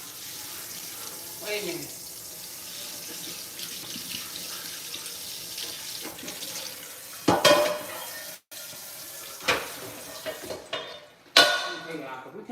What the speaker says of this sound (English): Let me rinse this out real good.